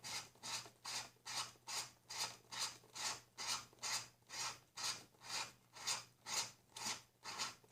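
Rhythmic back-and-forth rasping of sanding the top of an aluminium mini can on a block, about a dozen even strokes, close and steady, with a low hum underneath.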